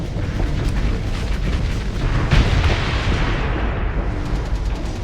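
Missiles exploding in the space combat game Starsector, a continuous dense roar of blasts and rumbling booms with one stronger burst midway, loud and with no speech.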